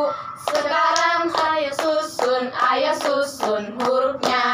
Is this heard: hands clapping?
yes